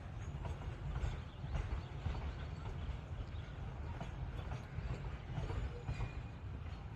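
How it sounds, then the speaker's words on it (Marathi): A goods train rumbles past nearby in a steady, continuous roar of heavy low rumble and rattling wagons, sustained loud throughout with no voices. "मालगाडी आहे."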